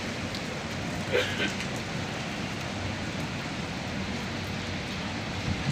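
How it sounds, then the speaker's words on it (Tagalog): Rain falling during strong winds in the UAE, a steady broadband hiss of wind and rain heard continuously with no clear talk. "Now the rain is falling now"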